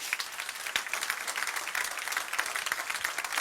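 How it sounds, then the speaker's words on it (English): Audience applause with distinct individual claps at a seminar-style live event, a moderately loud, busy patter of hands lasting a few seconds with no speech over it. "Give him a round of applause,"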